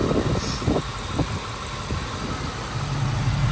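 A 1996 Ford Mustang Cobra coupe with a Bassani X-pipe exhaust idles steadily nearby, a low, smooth, quiet engine hum with a few faint knocks early on and no talking.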